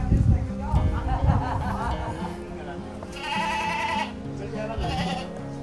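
Goats bleating on a small livestock farm, several nasal calls overlapping in the middle and end, moderately close, mixed with people talking and general farmyard background noise.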